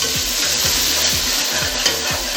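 Two medium tomatoes sizzle in a pan for chana pulao, a loud continuous frying hiss with a regular run of soft stirring thumps from a spoon moving through them.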